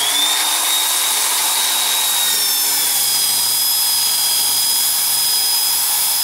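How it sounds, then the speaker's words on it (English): A steady high-pitched electric drill whine runs continuously, loud and close, with a faint grinding rasp underneath as the drill spins a crochet hook being shaped to size. "I put it in my drill, and I'm going to use that to spin it"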